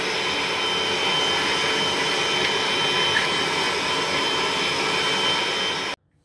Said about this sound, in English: Black and Decker vacuum cleaner